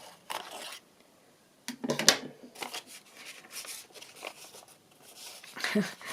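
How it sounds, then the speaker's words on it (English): Scissors cut through paper while trimming handmade book page pockets, close by, in a few crisp bursts of snipping separated by short pauses. "Just finish it off with the scissors."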